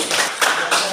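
Students in a vocational school classroom clap their hands in a short, close burst of applause with a few distinct peaks.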